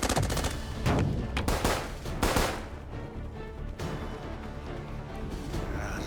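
Rapid bursts of gunfire from an animated action film, loud dense volleys in the first seconds that give way to a sustained rumbling roar, with no talking.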